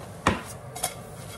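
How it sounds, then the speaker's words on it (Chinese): Food flipped in a frying pan on a home stove: two short metallic clanks of the pan, a sharp one and a softer one, over quiet kitchen background. "我来把它给颠一下"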